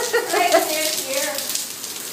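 Rain falling on a cold city street, a steady hissing patter that stays fairly close and even throughout, with faint traces of a voice underneath.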